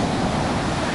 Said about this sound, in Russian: Да, волны сегодня серьезные, такие достаточно, метра полтора.